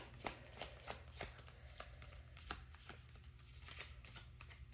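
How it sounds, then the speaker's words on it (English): Quiet riffle-shuffling of a deck of cards, a rapid series of soft flicking snaps repeating in bursts, close up. "we'll give this one more shuffle"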